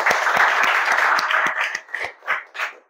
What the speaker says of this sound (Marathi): स्वतःसाठी जोरात टाळ्या